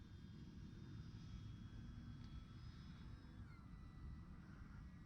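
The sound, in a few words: Arrows Technam RC model airplane flying overhead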